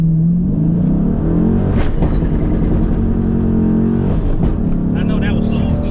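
A Dodge Challenger RT with power upgrades accelerates hard from inside the car, a loud, deep engine drone climbing in pitch with two sharp gear-shift breaks, while someone talks over it.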